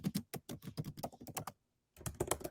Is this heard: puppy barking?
no